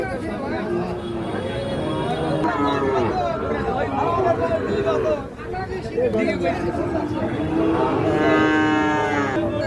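Young Sahiwal bull calf lowing at the Ambari cattle market, a couple of moos rising over the steady chatter and babble of traders nearby.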